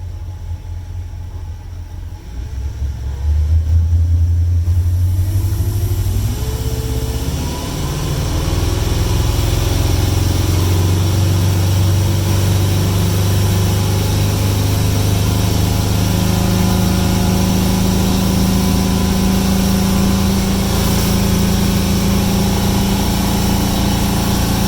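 A 2011 Sea Ray SLX 270 boat's engine roars up from a low idle into a loud, sustained drone as it accelerates toward about 3,200 RPM, steady and close throughout with wind and water noise.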